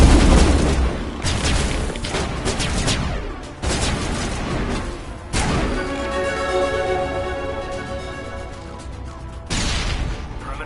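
Grenade blasts in the Mass Effect combat video game: several loud, booming explosions with crashing debris, arriving in separate bursts a few seconds apart and ringing out between hits.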